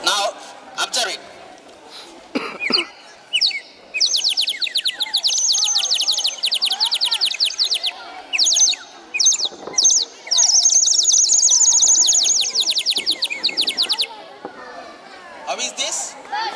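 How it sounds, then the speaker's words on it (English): A water-filled whistle gives bursts of warbling, trilling chirps like birdsong, a series of separate rapid trills with brief gaps between them, over a murmuring crowd of schoolchildren in a school science club. "In previous, whistle, squirrel sound. Now it is bird sound."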